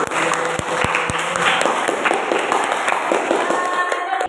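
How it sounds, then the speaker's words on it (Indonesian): Audience applause in a classroom or discussion session, a dense patter of claps sustained for several seconds with some crisp individual claps standing out, fairly loud and close, fading at the end. "Kita aplaus untuk kita semuanya hari ini"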